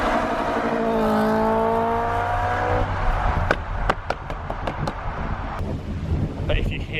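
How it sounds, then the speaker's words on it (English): Ford Fiesta fitted with a Honda Type R VTEC engine, its deep engine note rising and falling nearby under wind buffeting, with sharp intermittent clicks or pops in the second half. "So this is a Type R engine in a Fiesta."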